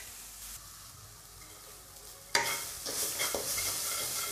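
Onion, garlic, ginger and green chili fry in a pan, a soft sizzle that swells into a brighter, louder crackle partway through, with scraping stirs on top.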